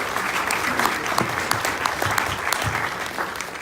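Warm applause from a conference audience at NextConnect 2019, many hands clapping steadily for a few seconds with a faint voice underneath.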